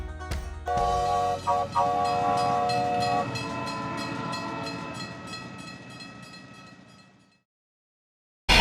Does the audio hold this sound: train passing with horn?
yes